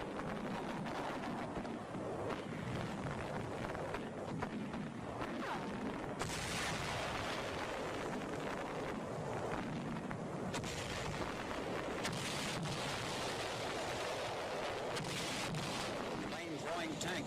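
Demolition charges blasting in caves and pockets on a hillside during the Battle of Okinawa, heard as dense, continuous rumbling bursts and booms that intensify partway through, loud and sustained with wind noise.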